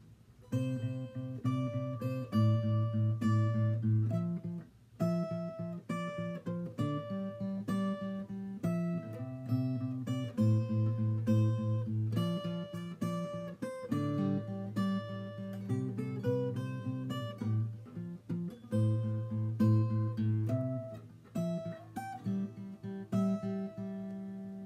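A fingerstyle acoustic guitar plays the chorus of a song, with clear plucked notes and chords in a slow, steady rhythm, close and alone with no talking.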